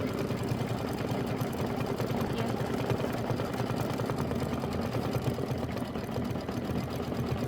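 An embroidery machine stitches a chenille pineapple quilt block in a steady, rapid mechanical whir that runs on without pause, close by and fairly soft.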